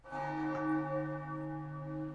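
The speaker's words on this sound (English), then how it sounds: "the church on the moon and the church bell ringing" A church bell tolls once and its long, sustained hum slowly fades, heard alone and fairly soft, in Super Mario Odyssey's wedding scene on the moon.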